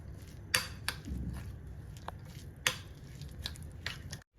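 Veg mayo sandwich filling with oregano and chili flakes being stirred in a bowl: a few sharp spoon clinks against the bowl among soft, squishy mixing, close up with no voices.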